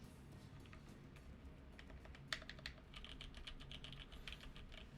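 Keystrokes on a MODE 65 keyboard fitted with GMK Iceberg keycaps, a steady run of soft, fairly quiet clicks and taps with one sharper press near the middle, heard close up over low room hum.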